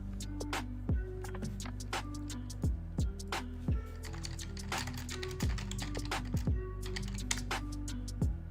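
Keys on a computer keyboard are pressed in short irregular bursts of clicks, close and fairly quiet, during a live trading session, with pauses between taps and no talking.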